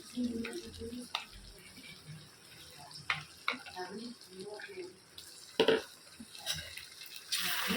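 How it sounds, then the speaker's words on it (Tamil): Half a kilo of chicken goes into a pan of frying tomato and oil, producing splashy sizzling and wet stirring with several sharp bursts and utensil knocks, irregular and close, with faint talk in the background. "இப்போ இந்த ஸ்டேஜில் வந்து நான் வந்து கறியை போட்டுக்கிறேன்."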